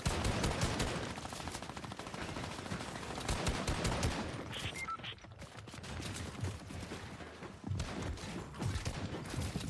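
Continuous video-game gunfire with rapid bursts and a busy, loud battle mix throughout, briefly thinning midway before resuming, with faint talk in the background.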